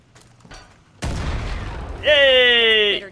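An explosion blasts an enemy apart in the video game Far Cry 5, a sudden loud boom with a rumbling roar that sustains, followed by a bright ringing synthetic tone layered on top before cutting off.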